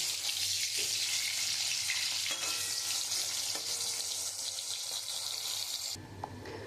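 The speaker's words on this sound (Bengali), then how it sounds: "আমি এরকম করে হালকা করে আমি ভেজে নিয়েছি" Spiny gourd (kakrol) pieces frying lightly in hot oil give a steady, close sizzling hiss that runs unbroken for several seconds, then softens slightly near the end. No voices are heard.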